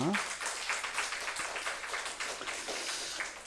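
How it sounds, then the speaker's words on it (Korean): Church congregation applauding, a dense, steady patter of many hands clapping together that fills the room, following a brief vocal sound at the start. "우리 박수로 축복하겠습니다"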